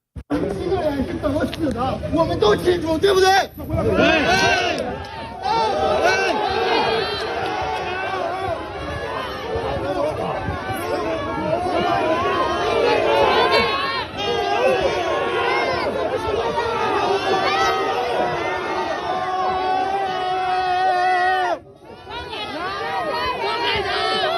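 A large crowd of protesters in China fills the space with dense chatter and shouting babble, loud and continuous, with a brief drop in noise near the end.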